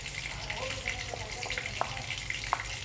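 Onion, garlic, ginger and masala sizzle softly as they are stirred in a hot kadai, with a continuous fry hiss broken by a few sharp clinks of the spoon against the pan.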